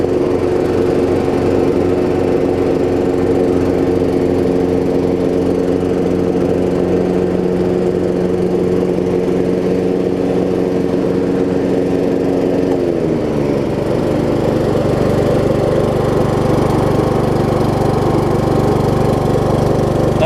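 Troy-Bilt Pony riding lawn mower with new drive belts and a welded deck, engine droning steadily and loud while mowing, its pitch shifting and the blades engaging partway through, with no talk.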